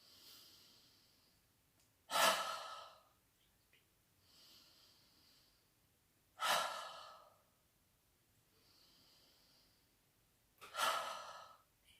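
Three deep, slow breaths during a yoga shoulder-raising exercise, each a long forceful airy exhale about four seconds apart, close and clear with quieter inhales between.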